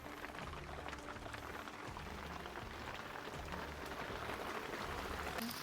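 Heavy rain pours steadily on a fishing raft on Jatiluhur reservoir during a thunderstorm, a dense, even hiss of drops that never lets up, with no voices.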